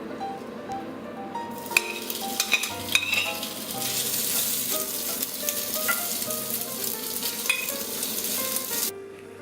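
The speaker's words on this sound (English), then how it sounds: "I'm just going to quickly fry up the bacon." Bacon sizzles loudly in a pan beside a pot of boiling pasta for macaroni and cheese, a dense crackling hiss broken by clinks and scrapes of a utensil stirring, close up with no talk.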